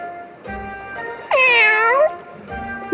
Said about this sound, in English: Master, I've been meaning to ask, but... what's with the cat?